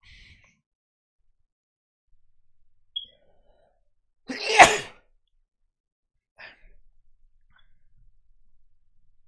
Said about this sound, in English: I'm gonna sneeze in a second.